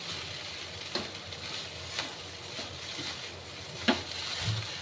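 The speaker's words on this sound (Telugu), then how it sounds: "ఇప్పుడు దీన్ని బాగా మనం కలుపుకోవాలి" Chicken noodles get stirred and mixed in a sizzling pan, with soft scraping strokes landing about once a second over a steady frying hiss, fairly quiet and without talking.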